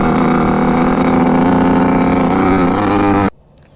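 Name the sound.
vintage Kawasaki dirt bike engine at full throttle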